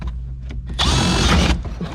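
A bigger bit is run through a hole with a power drill, giving a short whining burst in the middle. Quieter mechanical handling noise comes before and after it.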